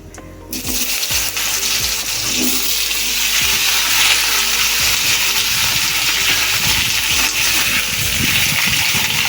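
Loud, steady hissing fills the whole stretch, a dense sizzle of raw banana, potato and papaya frying in hot oil with fenugreek, with a few soft knocks near the start.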